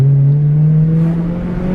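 A Honda Civic EP3 Type R accelerates hard in second gear, its engine note rising steadily in a loud, continuous drone heard from inside the car with no talking.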